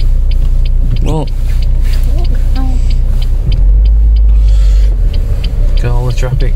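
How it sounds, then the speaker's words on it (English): Road traffic in Bolton town centre rumbles past close by, a loud, continuous low engine drone from passing cars, with voices chatting over it. "Look at all the traffic."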